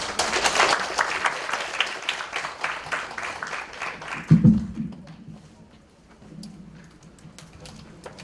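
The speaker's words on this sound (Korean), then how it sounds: "큰 박수로 맞이해 주시기 바랍니다." Audience applause welcoming a speaker at a youth cooperative start-up lecture session; dense clapping from a seated crowd fades out midway, followed by a thump and quiet room noise.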